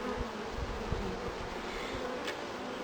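Honeybees hum steadily at an open hive on a cool spring morning, a close, continuous buzz with occasional individual bees passing by.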